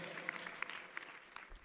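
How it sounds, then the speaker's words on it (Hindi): A hall full of people at a memorial gathering applauds to honour a woman, a soft steady spatter of clapping with a few sharper individual claps standing out, heard faintly. "इस बहन के सम्मान में एक बार पुनः पूरा सदन जोरदार तालियां बजा करके उत्साहवर्धन कीजिएगा"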